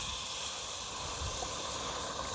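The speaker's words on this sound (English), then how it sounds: "we're going to deglaze the pan" A hot pan being deglazed with liquid for venison stew at a camp cookout gives off a steady, loud, broadband sizzle and hiss that fills the moment without pause and with no voices.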